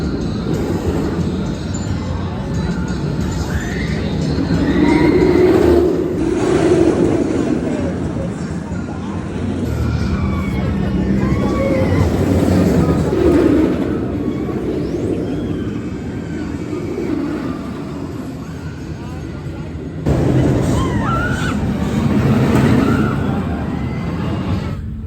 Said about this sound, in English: Brilliant night ride there on the Smiler